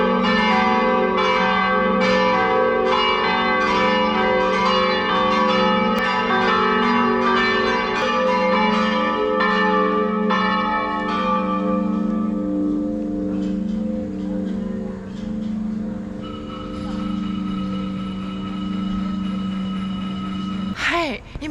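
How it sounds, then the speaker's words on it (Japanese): Church bells peal loudly in Montenegro in a dense, overlapping clangor with rich ringing harmonics, continuing for about twenty seconds before fading into a lingering hum. "鐘が騒いでます。"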